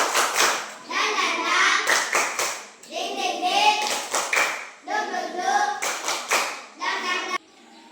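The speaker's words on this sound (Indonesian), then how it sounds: "Kita berikan tepuk semangat. Tepuk semangat." Children in a classroom clap a rhythmic 'tepuk semangat' cheer, bursts of hand claps in a steady pattern mixed with their chanted voices, close and fairly loud.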